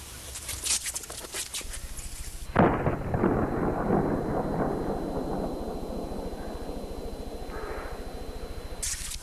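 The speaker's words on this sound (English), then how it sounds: "Firecracker, take number 1." A firecracker set off as a sound-effect take for an atomic explosion bursts with a sudden loud crack. It then rolls into a long, deep, rumbling decay that fades over several seconds.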